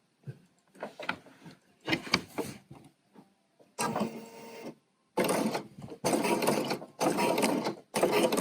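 BERNINA sewing machine fitted with a pleating accessory, running in short stop-start bursts of rapid mechanical stitching with clicks and brief pauses between runs, close and fairly loud.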